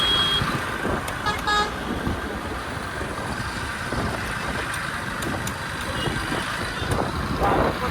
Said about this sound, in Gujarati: બહુ ટ્રાફિક જામ થઈ ગયું અત્યારે